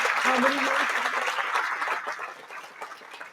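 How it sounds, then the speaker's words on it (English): Audience at a hospital cancer-care center ribbon cutting bursting into applause, dense clapping from a crowd that starts loud and gradually tapers off, with a voice briefly heard at the start. "And I think we have to give a clap for that."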